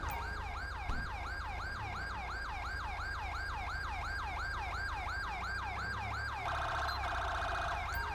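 A loud wailing ambulance siren in the video game GTA 5 sweeps up and down repeatedly, then shifts to a faster yelp near the end, with a steady engine rumble underneath.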